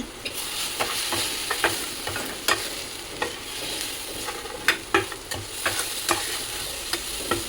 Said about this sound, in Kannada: ಇದಕ್ಕಿವಾಗ ಒಂದು ಸ್ವಲ್ಪ ಸೋಯಾ ಸಾಸ್ ಹಾಕ್ಕೊಂಡು ಚೆನ್ನಾಗಿ ಕೈ ಆಡಿಸ್ಕೊತೀನಿ